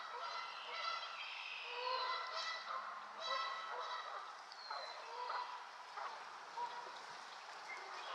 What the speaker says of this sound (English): What was all the bird squawk about?